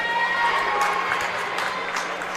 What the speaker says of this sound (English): Judging by the cheering in the crowd